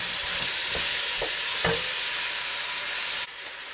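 Onions sizzling in a pot alongside peppers, a constant close frying hiss broken by a few scraping stirs of a spoon before the sound drops off near the end.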